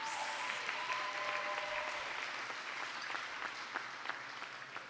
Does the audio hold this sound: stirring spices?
no